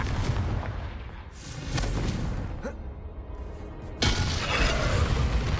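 A Confringo blasting spell explodes in the video game Hogwarts Legacy, a booming burst over a noisy game soundscape, followed by another heavy impact about four seconds in.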